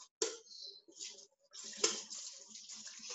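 Running tap water rinsing something in a kitchen sink while making a cake, heard close in uneven hissing bursts that start and stop with short gaps.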